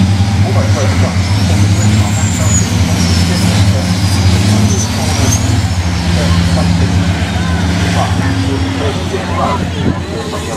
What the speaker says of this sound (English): The pace of these trucks as well is actually astonishing.